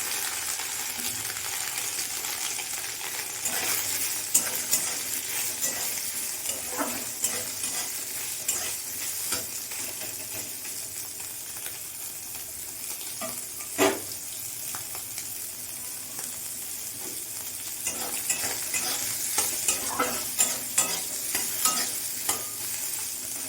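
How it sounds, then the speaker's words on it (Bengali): Soybean chunks fry in hot oil in a wok for a Bengali masala khichuri, a continuous close sizzle with repeated clinks and scrapes from stirring, no voices over it. "আমি তেল দিয়ে দেবো সোয়াবিন আর সবজি ভাজার জন্য"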